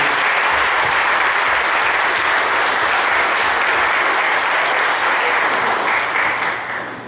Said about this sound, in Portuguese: Eu gostaria de pedir para a igreja que desse uma salva de palmas para esses irmãos